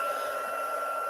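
A craft heat gun blows hot air to melt embossing powder on a stamped sentiment, a steady close whooshing drone with a constant whine, loud and unbroken.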